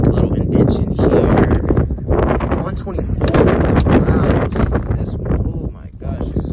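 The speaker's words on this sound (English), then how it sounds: "Oh my gosh, it's so windy out here." Strong wind gusts buffet the microphone outdoors at an Atlanta Copart car auction yard, a steady rushing roar that runs through the whole stretch while someone talks over it.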